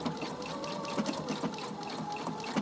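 A Husqvarna Viking Opal 690Q sewing machine stitches steadily with a close, continuous motor hum and rapid needle rhythm, heard alone.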